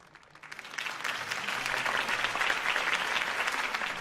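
Crowd applause in a Batman Telltale video game scene after a campaign speech, swelling in from quiet to a steady, moderately loud clatter of many clapping hands, with no talk over it.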